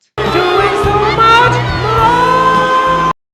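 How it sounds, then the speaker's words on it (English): A loud, close crowd shouts and jeers, booing a performer off stage in the film Ted. Overlapping voices rise together in a sustained surge that lasts about three seconds and then stops abruptly. "they ended up booing him off stage"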